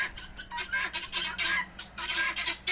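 Harsh, rapid squawking calls from a group of guinea fowl, repeated in a noisy chattering rhythm at moderate distance.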